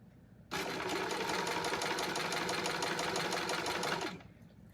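A sewing machine runs steadily for about four seconds, stitching a hem on stretch fabric right at the edge, with a loud even whir that starts and stops abruptly and has no talk over it.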